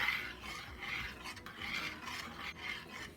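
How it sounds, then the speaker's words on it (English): Chopped dry-roasted pecans being stirred into maple rice pudding, giving a soft, rhythmic scraping and rasping of a spoon against the pot in repeated strokes, close by with no talking. "And stir the pecans in."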